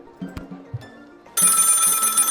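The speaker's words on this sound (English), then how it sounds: "The phone is ringing." A telephone rings in the video game Lil' Guardsman: after a few quiet, scattered sounds, a bright electronic ring starts suddenly and keeps going steadily.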